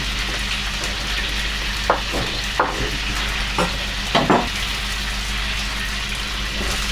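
Courgette, asparagus and peas fry in a pan with a loud, constant sizzle, while a utensil stirs and scrapes a few times close by, with no voices.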